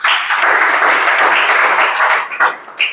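A class applauding on cue during a lesson, a dense burst of clapping from many hands that fades into a few scattered claps at the end.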